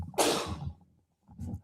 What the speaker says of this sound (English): incredible timing on that sneeze there